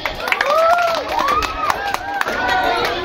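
Audience applause for a class 7F contestant at a school children's Islamic preaching contest for Maulid Nabi, steady clapping filling the hall for about three seconds, with whistle-like tonal sounds and voices mixed in.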